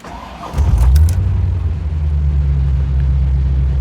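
A Chevrolet Corvette C4 V8 engine cranks briefly and catches with a loud, close burst, then settles into a steady, deep idle rumble with no talk.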